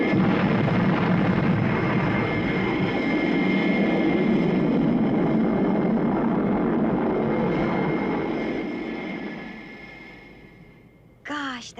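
Spacecraft retro rockets fire in a loud, sustained roaring blast that holds steady, then fades away, ending with a brief rising whine.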